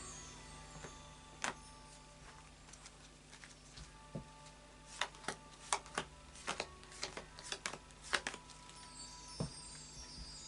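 Scattered crisp snaps and flicks of cards being shuffled, irregular and close, with a quiet background and no talking.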